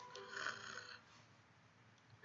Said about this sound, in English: Oh, she snores louder than I expected.